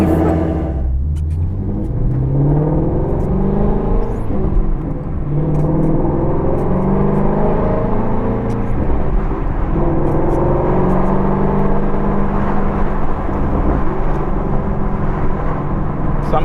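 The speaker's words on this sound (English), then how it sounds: "So I'm just letting the car warm up first." Shelby Ford GT350 idling as it warms up: a loud, close engine rumble that settles into a steady drone with slight rises in pitch, continuous from start to finish.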